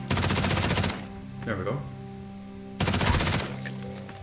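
Rapid automatic gunfire sounds in a COD Zombies-style game made in Dreams, two loud bursts separated by a short pause, with a voice speaking briefly between them.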